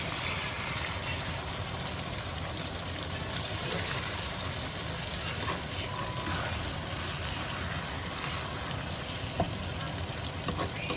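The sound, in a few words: potatoes frying in a skillet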